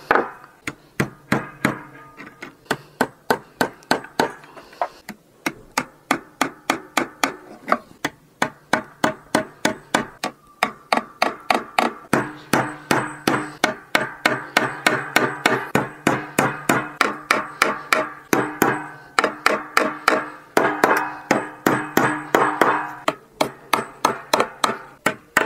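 Small nails are hammered into a homemade wooden guitar pedalboard in quick, even runs of sharp, close taps with brief pauses between runs, continuing for about 25 seconds.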